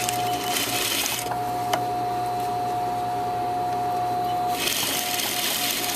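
A sewing machine stitching a half-inch seam on a V-neck facing, running as a continuous whir with a brief pause in the middle, fairly loud and close with no speech.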